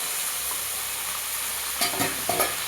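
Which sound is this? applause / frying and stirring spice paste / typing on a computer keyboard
frying and stirring spice paste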